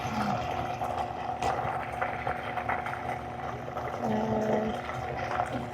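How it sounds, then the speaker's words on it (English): Blender motor whirring as it blends a peanut butter banana smoothie of bananas, peanut butter, chia seeds, yogurt and milk: a loud, steady, continuous drone lasting several seconds, with no talking. "now it's time to blend our smoothie"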